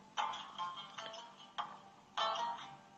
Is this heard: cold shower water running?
no